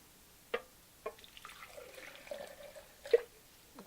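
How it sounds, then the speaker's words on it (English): Water poured into a pan of paper for recycled papermaking gives faint drips and soft trickling splashes, a few distinct drops standing out in an otherwise quiet room. "Add some water."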